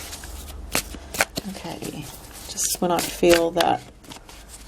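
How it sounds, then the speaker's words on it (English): Close, papery riffling of tarot cards being shuffled in several quick bursts while a person talks over them. "I like to do another shuffle before I actually pull out the cards."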